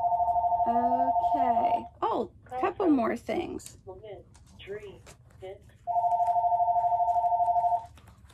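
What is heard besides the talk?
telephone ringing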